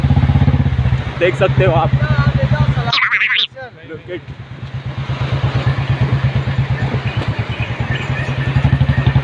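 A motorcycle engine runs steadily on a rough, damaged mountain road on the way to Badrinath, rumbling close and loud throughout, with a brief clatter and bump partway through and someone talking over it.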